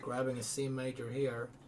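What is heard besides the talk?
None of the usual background noises is heard.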